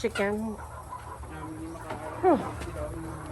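A chicken on a small farm clucks nearby in two short, bright bursts, with a quiet background and low rumble between the calls.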